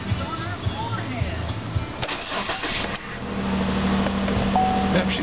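A car with a 3.9 engine cold-starts in winter: cranking and sputtering for a few seconds, then catching and settling into a steady rumbling idle, heard fairly close.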